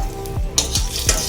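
A dried red chilli frying in hot oil in a heated kadai, a close steady sizzle and crackle with a few spoon scrapes, loud and alone.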